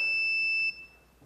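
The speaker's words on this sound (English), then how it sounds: "it again triggers the alarm" A CCTV system alarm, triggered after a failed login, gives one loud, sustained, high electronic beep that cuts off abruptly and leaves faint room noise.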